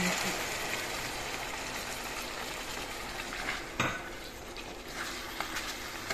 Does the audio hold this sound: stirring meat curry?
yes